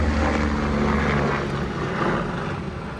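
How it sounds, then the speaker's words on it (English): A helicopter passes over a Houston, Texas front-yard butterfly garden, its rotor and engine making a loud, steady drone that fills the whole moment and fades slightly toward the end, with no voices. "Oh, helicopter."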